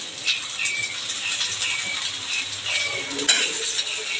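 Sabudana appe fry in an appe pan, a bright steady sizzle with light scraping and tapping of a utensil turning them throughout.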